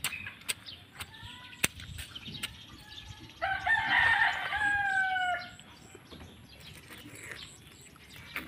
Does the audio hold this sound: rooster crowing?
yes